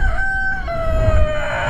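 A chicken crows loudly and close, one drawn-out, wavering call over a rumbling, noisy background in a comedy horror film scene.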